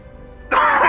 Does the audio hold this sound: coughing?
yes